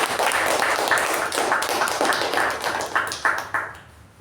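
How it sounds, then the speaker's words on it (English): Applause from a meeting audience, steady patter of clapping hands at moderate distance that holds for several seconds before thinning and fading out. "Let's give a special round, a once of applause"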